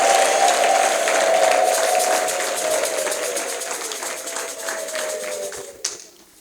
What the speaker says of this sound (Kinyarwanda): Imana tuyikomere mu mashyi, tuyivugize impundu nta kintu bitwaye